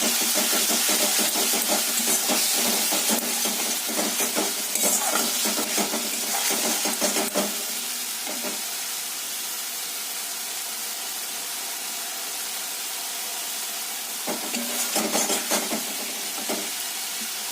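Potatoes and vegetables for a vegetarian curry, with tomato and a pinch of sugar, stirred and sautéed in a pan: a soft hiss of frying with scraping stirs in bursts, quieter in the middle, close by.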